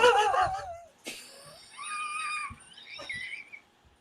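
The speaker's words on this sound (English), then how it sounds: "I'd like to hear the whistle, the audio." Thin high whistling tones rise and waver over a couple of seconds, fairly faint, with a short burst of a voice at the start.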